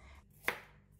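One crisp knife chop through shallots on a cutting board, close and short, with quiet around it.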